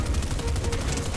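Dense gunshots in a battle royale video game, a continuous rapid crackle of fire heard up close throughout, without any speech.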